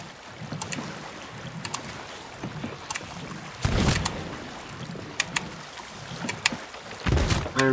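A dinghy being rowed in Sea of Thieves, with rhythmic oar splashes and creaks over wind and water noise, plus a few louder sloshing surges.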